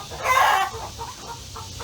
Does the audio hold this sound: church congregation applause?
no